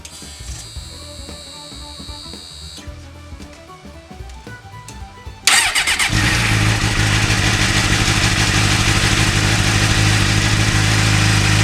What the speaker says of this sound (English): So I'm going to start the motorcycle.